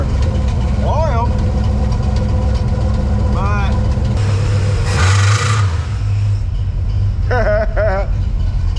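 Dodge car engine fitted with a GM HEI ignition module runs at a steady idle, a continuous low rumble throughout, with voices talking over it.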